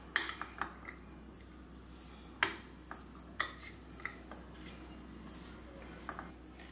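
A spoon clinks and scrapes against a bowl while custard is mixed, scattered sharp taps over a quiet background.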